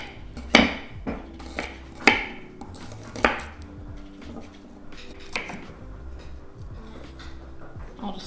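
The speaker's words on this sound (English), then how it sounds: "So I'm just gonna, you know, finely chop this garlic." Garlic being finely chopped with a knife on a cutting board, a few sharp, irregular knocks standing out over quieter tapping and light kitchen clatter, with no talking.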